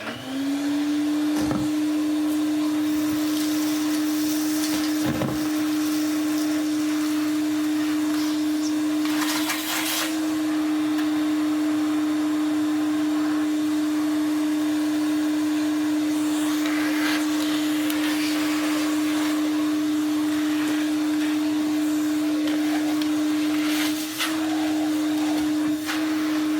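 Klarpul KL-001 vacuum cleaner running steadily close by, a continuous motor drone with a strong steady whine and brief bumps and knocks as it moves, no talking.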